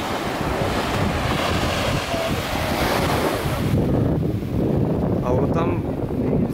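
Surf washes onto Alicia beach in Sosua, Dominican Republic, with steady breaking waves, strong wind buffeting the microphone, and a voice talking over the shore noise.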